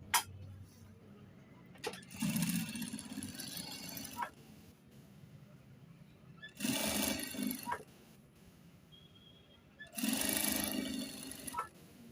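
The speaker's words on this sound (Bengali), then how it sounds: "অ্যাকুরেটভাবে কলারটা সেলাই করে দিতেছি" A sewing machine stitches a shirt collar joined to the neckline, running in three loud bursts of steady mechanical whirring separated by quieter pauses with faint handling sounds.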